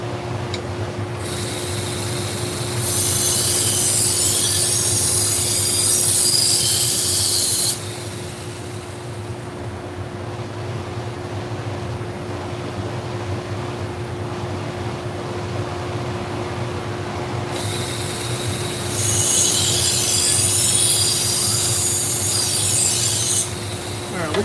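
A thin knife blade grinds against a sharpening machine running at high speed, a steady loud abrasive hiss that swells in two long passes over a constant motor hum.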